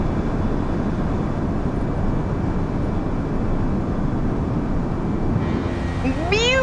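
Airbus A320 with IAE engines during departure climb in a flight simulator, a steady loud broadband engine roar throughout, with a rising synthetic tone near the end.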